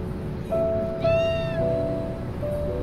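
A black-and-white mother cat gives several clear, close meows in short succession, a few drawn out and rising, calling her kittens. The calls stand alone against a quiet background.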